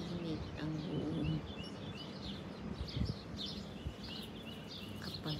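Birds chirping in a quiet morning neighborhood, small calls scattered throughout over steady low background noise, with faint low sounds underneath.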